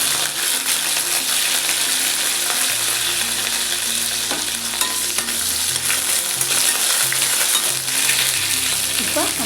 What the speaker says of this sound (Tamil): சோம்பு பொரிஞ்சோடனே கருவேப்பிலை தாளிக்கணும்.